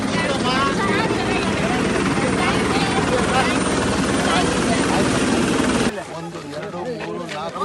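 A helicopter flies low over Hampi during the Hampi Utsav festival, about to land. Its rotor and engine roar is loud and steady, then drops sharply near the end, with people talking over it.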